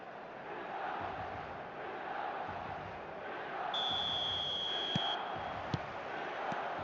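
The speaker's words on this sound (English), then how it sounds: "stadium is full of noise and energy." Steady stadium crowd roar from the eFootball video game fills a full match-day atmosphere, a broad continuous wash of noise with a brief high electronic tone and a few sharp clicks partway through.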